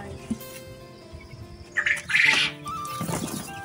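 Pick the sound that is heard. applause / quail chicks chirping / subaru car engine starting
quail chicks chirping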